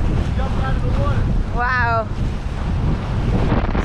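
Strong wind roars and buffets the microphone throughout at a campsite, with a brief exclaimed word from a nearby voice partway through.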